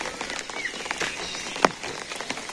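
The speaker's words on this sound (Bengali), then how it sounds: "দেখেন কিরকম অন্ধকার আর বৃষ্টি" Steady rain patters all around, a soft broadband hiss with scattered louder drops and one sharp splash or tap partway through.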